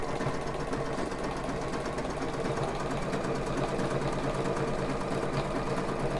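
A sewing machine runs steadily, stitching along the top cut edge of bra-band elastic with a continuous, even mechanical hum and rapid needle chatter, close and unbroken throughout.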